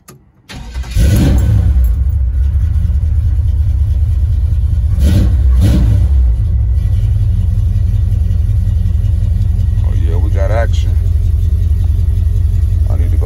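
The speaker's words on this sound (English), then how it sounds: "Cold start." Chevrolet Camaro Z28 V8 cold start: a quick crank catches into a loud, deep rumbling idle, with a couple of short blips of revving early on before settling into a steady close-up throb.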